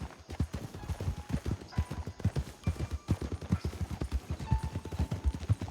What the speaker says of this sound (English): there's a horse up there